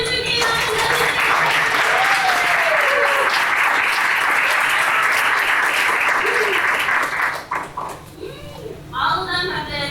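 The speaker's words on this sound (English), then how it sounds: "can we give a big round of applause?" Loud, dense audience applause and cheering for singing students fills most of the span, then fades into scattered claps while a voice speaks near the end.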